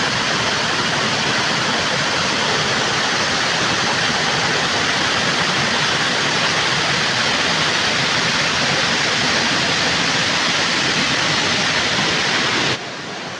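Giridibandha waterfall deep in the Keonjhar jungle roars as a steady, loud, broadband rush of falling water, continuous and unbroken with no voices over it.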